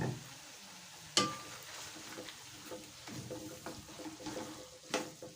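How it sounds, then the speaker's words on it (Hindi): Minced meat keema frying in cooking oil in a pan, a soft sizzle with stirring scrapes and a couple of sharp utensil clinks against the pot, fairly quiet and close. "और कीमे के करेंगे अच्छे तरीके से भुनाई।"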